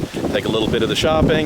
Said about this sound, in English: Pardon the wind, it's a little windy because storms are kind of rolling through.